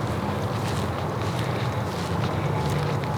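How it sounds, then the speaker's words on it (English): Wind gusts steadily across an open field during a late-season rifle hunt, a constant rushing buffet against the microphone with no speech. "Oh, the wind's blowing the right way now."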